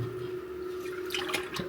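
CVT fluid pours from the removed oil pan of a Suzuki Swift's JATCO CVT7 JF015E transmission, a faint, steady trickle with a few splashy drips toward the end and no talking.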